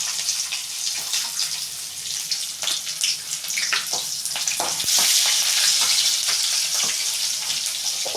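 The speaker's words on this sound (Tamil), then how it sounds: "இப்போ நம்ம கட் பண்ணி வச்சுருந்த வெங்காயத்தை போட்டு நல்லா வதக்கிக்கலாம்." Chopped onions sauté in a pan for a baby cabbage poriyal, a steady close sizzle broken by scraping stirs that grows louder midway, with no talk.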